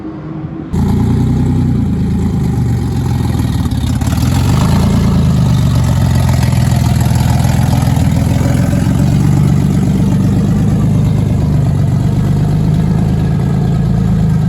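An 800hp turbocharged BMW E46 M3 engine runs loud and close, a dense, steady low rumble that starts abruptly and continues unbroken with slight swells in pitch.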